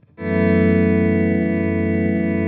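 A single guitar chord played through a Headrush MX5 effects unit rings out after a short pick attack, sustaining loud and steady with a smooth reverb wash and almost no decay, with no voices.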